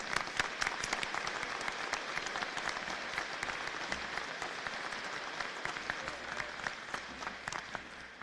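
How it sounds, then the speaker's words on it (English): A large audience applauds at a spring university commencement ceremony, a sustained, even wash of many hands clapping for several seconds before it begins to thin slightly at the end. "So let's give them another round of applause."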